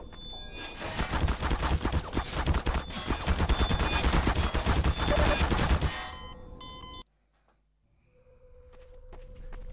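Automated turrets in Half-Life 2 open up in a sustained, loud burst of rapid gunfire lasting several seconds, then cut off abruptly into near silence with a faint electronic tone afterward.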